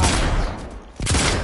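Game gunfire in a PS4 shooter, with dense bursts of rapid shots, a brief lull and then the firing resuming, loud and close.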